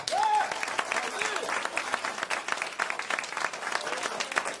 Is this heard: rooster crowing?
no